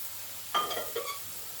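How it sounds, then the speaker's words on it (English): Fresh garlic and ginger hitting braising meat in a pot, a brief soft sizzle and stir of two quick bursts over a low steady background hum, close and faint. "Now I'm going to add in my garlic, fresh garlic and ginger"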